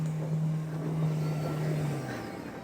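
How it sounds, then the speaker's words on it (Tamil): A 2014 Fiat Punto backs up on a sloped road, its engine a steady close drone that holds for a couple of seconds, then eases off and drops in pitch as it slows. "அப்படியே ரிவேர்ஸ் வருது பாருங்க வண்டி."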